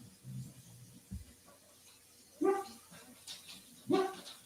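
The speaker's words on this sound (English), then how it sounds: "I don't know what you're barking at, but can you please stop?" A dog barks at home, two loud close barks spaced about a second and a half apart, with quieter whimpering and room noise before them and no speech.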